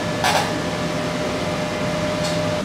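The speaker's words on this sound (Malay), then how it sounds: "Bunyi pasang kipas." A newly installed fan runs on a Spark.IT setup with custom piping. It makes a steady, loud whooshing hum with a faint tonal whine, and two brief hissy bursts rise over it.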